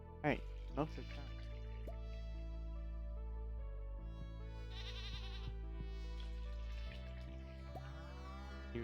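Repeated bleats from a sheep in the farming game Stardew Valley, short wavering calls over a steady musical backdrop, with a few sharp drip-like blips and voices in the mix.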